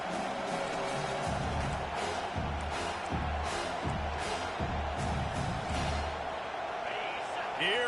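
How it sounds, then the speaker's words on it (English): Home crowd noise roars in a college football video game on a third-down defensive play, a continuous stadium swell sitting under loud play-by-play commentary throughout. "Here comes this home crowd as the defense tries to get off the field on third down."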